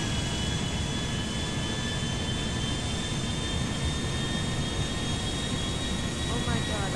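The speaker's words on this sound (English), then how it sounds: "We finally stole a jet." A stolen jet roars steadily in a video game, a constant loud engine drone with a thin high whine running throughout, no talk over it.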